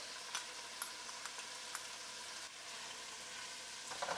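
Chopped onion and crushed garlic fry in a pan with a faint, steady sizzle and a few light stirring clicks, and no talking.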